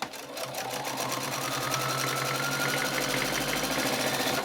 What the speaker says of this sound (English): And having one sewing machine